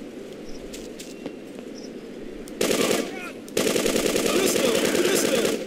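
Rapid machine gun bursts from the GTA 2 PC game, dense continuous automatic fire that grows louder midway over steady background game ambience, with no talk.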